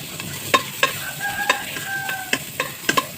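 Ginger pieces stirred in a small amount of cooking oil in a pan, with a steady low sizzle and repeated sharp scraping taps of a utensil against the pan, close up.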